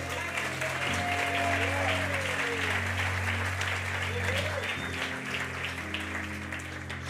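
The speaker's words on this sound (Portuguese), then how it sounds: "Salva de palmas para ele." A church congregation claps steadily and warmly for several seconds, with a sustained hum of organ or keyboard chords underneath.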